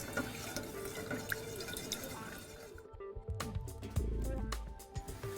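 Caramel for poached peaches bubbles in a pan with scattered wet pops and drips, close and fairly quiet, with heavier gurgles toward the end.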